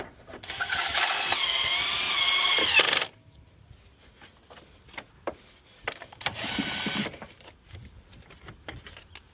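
A power tool tightens a replacement alternator on a 1997-2004 Dodge Dakota, a loud whirring burst of about three seconds, then faint clicks and handling noises, then a second shorter whir.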